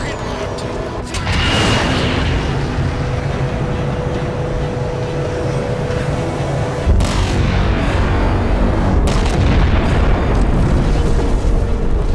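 A ship weapon fires at a target in Halo 4, a deep booming blast that swells into a sustained roaring rumble, with a second surge partway through, loud and continuous.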